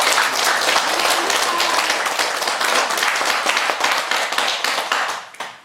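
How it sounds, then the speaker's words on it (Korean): Sustained applause from a church congregation at a founding and ordination worship service in Ulsan, dense and loud throughout before tapering off at the very end. "주님 앞에 영광의 박수 한번"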